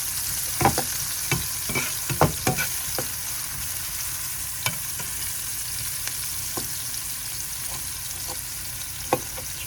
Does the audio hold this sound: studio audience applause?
no